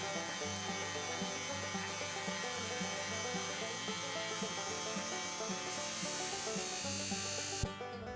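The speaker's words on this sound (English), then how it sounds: "I'm using my orbital sander to sand the pliers smooth, starting out with 120 grit" An orbital sander runs continuously, smoothing a pair of pliers with 120-grit paper. The steady buzzing whir with gritty scraping is close and fairly loud, with a brief knock near the end.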